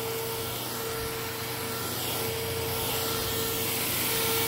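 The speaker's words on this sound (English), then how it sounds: "This was the best Pet cordless vacuum of that era." A cordless pet vacuum cleaner runs steadily with a loud, constant whine and a faint tonal hum, brushing over a living-room floor with no talk.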